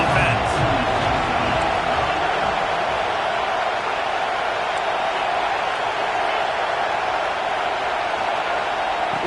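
In a college football video game, Miami plays Auburn, and the simulated stadium crowd gives off a dense, steady roar that holds at an even loudness throughout, with commentary voices over it.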